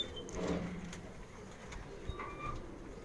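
Old spotted Kamgar pigeons coo softly in a loft, a low murmuring call near the start and faint bird sounds after, over quiet background noise.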